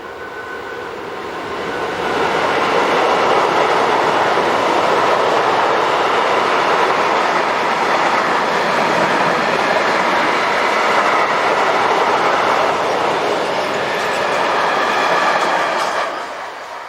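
Train 185051, an electric locomotive, passes a village with a loud, sustained rumble and rush of wheels on rail that swells within seconds, holds steadily, then eases away near the end.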